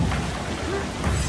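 Steady rain hisses across the surface with low rumbling thunder in Assassin's Creed Shadows, a dense, even wash of game weather with no voices.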